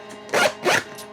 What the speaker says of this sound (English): Even the zipper is good quality.